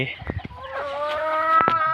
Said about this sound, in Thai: ไก่ไข่เนาะ กระชีเลี้ยงไก่ไข่ไว้